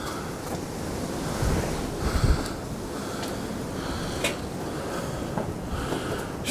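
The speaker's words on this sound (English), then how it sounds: "It is mega windy up here." Strong wind gusting across a hilltop at night, a loud continuous roar and buffeting against the microphone that swells in several gusts, with no voices.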